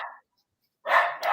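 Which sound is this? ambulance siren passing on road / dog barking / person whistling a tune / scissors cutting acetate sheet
dog barking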